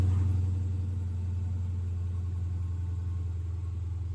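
A 2015 Dodge Challenger 392 V8 engine idles steadily after startup with a low, continuous rumble, close and fairly loud, with no talking.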